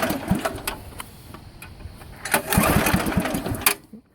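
A vintage Case XC80 rear-engine riding mower engine runs steadily with a rough, rattling idle, swelling louder for a second near the end before cutting off abruptly.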